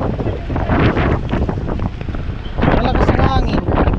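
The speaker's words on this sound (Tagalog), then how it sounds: "Oh, lakas ng hangin." Strong wind buffets the microphone outdoors in rainy weather, a loud, rushing roar that swells and fades while people talk over it.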